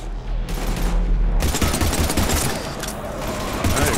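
Heavy, sustained automatic gunfire in the sci-fi shooter Mass Effect 3, a dense roaring fusillade that runs almost without a break, loud and close.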